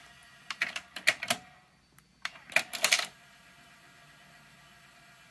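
Sony TC-WR465 dual cassette deck mechanism running on the second tape: a burst of sharp clicking and clunking transients, then a brief pause and a second cluster of clicks, fairly close and alone over a quiet hiss.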